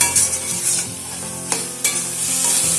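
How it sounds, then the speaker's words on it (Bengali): Ash gourd and prawn ghonto is stirred with sugar in a hot pan, giving a loud, continuous sizzle with scraping stirs and a couple of sharper clanks, and no voices. "চিনি দিয়ে 2-1 মিনিট মতো নাড়াচাড়া করে নিলাম"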